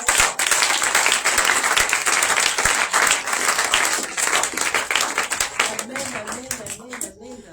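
Church congregation applauding Jesus, loud dense clapping from a crowd that fills the space, with a voice speaking over it and the applause thinning toward the end.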